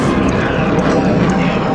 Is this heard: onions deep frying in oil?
no